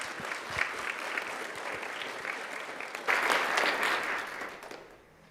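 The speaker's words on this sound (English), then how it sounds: "I would hope that you all would just give them a round of applause." Legislators at an assembly floor session give a round of applause, steady clapping that swells briefly midway, then fades out toward the end.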